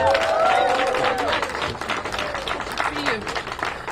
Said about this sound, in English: So if everyone would give a warm round of applause for our mayor, Muriel Bowser.